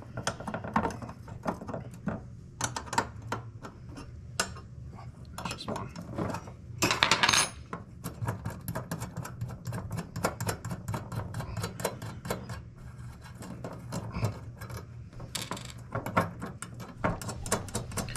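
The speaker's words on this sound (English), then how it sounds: "take two 3/8 wrench and you're gonna hold one on the bottom" Two 3/8 wrenches work loose the jumper wire nuts on a heating element. Sharp metallic clicks and clinks come in irregular bursts close up, with a low hum underneath.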